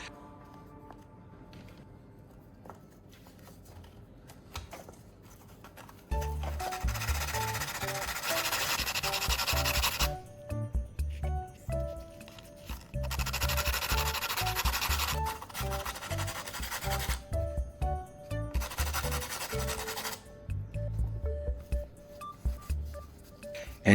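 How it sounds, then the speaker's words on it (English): A battery's carbon core is ground into a fine tip in repeated bursts of harsh rasping abrasion, each lasting a few seconds and separated by short pauses, with an electronic beeping tone in the background. "Next, I'll grind the battery core to shape it into a fine tip."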